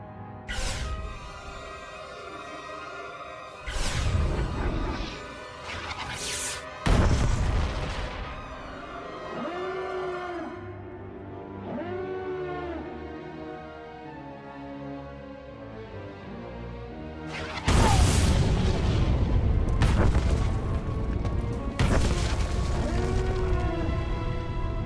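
Satellite strike in Star Wars: The Old Republic on Makeb, with several heavy booming explosions spread across the stretch, loud and close, separated by quieter rumbling gaps and a final cluster of blasts.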